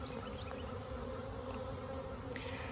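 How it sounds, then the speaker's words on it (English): A swarm of bees on the ground buzzes continuously in a dense, steady drone, close and moderately loud, with individual insects whizzing past now and then. "noticed bees flying all around. And so we have a swarm on the ground."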